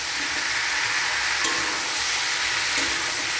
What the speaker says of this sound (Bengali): এবার আমি এটা দিয়ে দেবো, মশলাটা দিব, যেহেতু মশলা দিয়ে কষিয়ে নেব